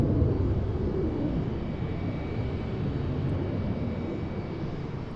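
A Blue Angels jet flies at Boeing Field, heard as a distant, fairly faint, broad steady roar that fades slightly across the stretch, with no talking.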